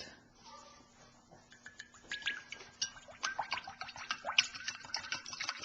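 Vegetable, corn or peanut cooking oil poured into a pot for frying tempura flakes, a faint, close liquid trickle and splash that grows steadily busier and louder as the pour goes on.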